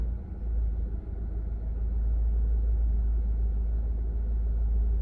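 A car idles in line at a car wash, a low steady engine rumble that stays close and constant with no other sounds on top.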